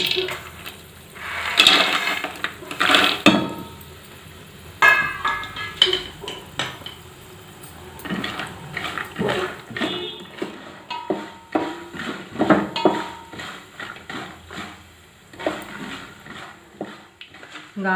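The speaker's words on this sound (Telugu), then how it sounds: "బాగా టపటప అంటున్నాయి వేసిన పప్పు కూడా పగిలిపోయినాయి" Chillies and chana dal spluttering in hot groundnut oil for a tempering in a pan, sharp crackles and pops in irregular bursts, close and fairly loud, with someone talking over the sizzle.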